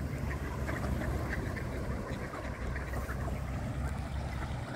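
A dense flock of mallard drakes and hens on open water in winter, with steady overlapping quacks and splashing close by and no pauses.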